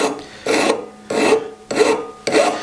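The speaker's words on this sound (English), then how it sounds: "these scoring irons are soft enough that you can just use a regular file to sharpen them" A regular metal file sharpening the soft steel scoring irons of a woodworking dado plane, four long rasping strokes in an even rhythm with short pauses between them, close and clear with no voices.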